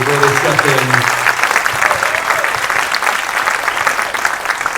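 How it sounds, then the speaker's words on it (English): Concert audience at a 4th grade winter concert applauds two music teachers, a loud, sustained wash of many hands clapping throughout, with a fading voice briefly audible at the start. "everybody give a big round of applause for Mr. Reiner and Mr. Cifali"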